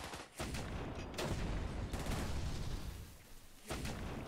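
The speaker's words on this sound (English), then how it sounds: "It's those cannons that are really," Cannons firing in the strategy game Kingdoms Reborn, a dense barrage of booming shots that runs almost continuously and drops out briefly near the start and again near the end, with no voices.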